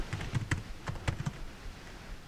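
Keys clatter on a computer keyboard as a motor resource remapping command is entered in drone flight-controller software, a close, irregular burst of about a dozen taps over the first second and a half, then quiet.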